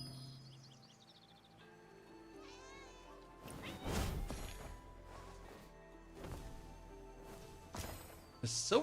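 A cat meows in the Where Winds Meet video game amid a gently musical ambient scene, a few short mews alongside chimes and soft thumps, with no speech.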